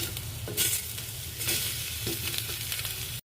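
Onions and green chillies sautéing for chicken curry, with a continuous sizzle close by and periodic scraping stirs of a spatula in the pan, a couple of sharper clinks standing out; no voices.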